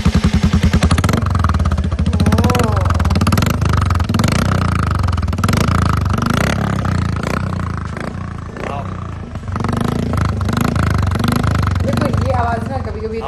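A loud custom Royal Enfield motorcycle revs close by, its exhaust blipping and roaring in bursts with a heavy low rumble, while voices talk over it.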